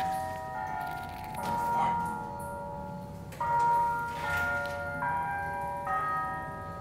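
Bells ring in a tinkling, repeating melodic pattern, moderately distant, with faint background noise and no talking.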